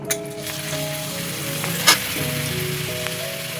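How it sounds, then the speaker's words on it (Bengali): Hot oil spatters and sizzles as water drips from a wet spatula into a frying pan, a steady crackle with one sharper pop midway, close and fairly loud, over a tonal hum in the background. "খুন্তিটার মধ্যে জল আছিল, তো দেখো জলের ছিটা লাগছে"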